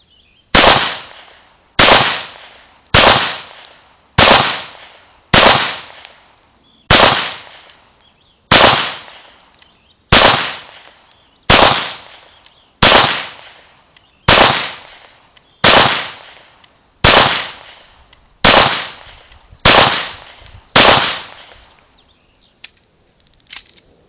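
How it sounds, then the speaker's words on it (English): Sixteen sharp pistol shots from a Smith & Wesson SD9VE 9mm, fired at a steady pace of about one every one and a half seconds, each loud crack ringing briefly outdoors with no talk between them. "these are the first shots. I've never shot this pistol before other than dry fire."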